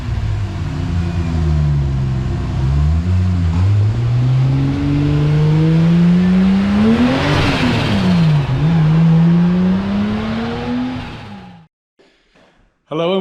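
A Toyota Supra GT-300 with a fully rebuilt 2JZ-GTE engine makes a loud dyno pull, revving up, shifting and climbing to a screaming peak before dropping off abruptly near the end.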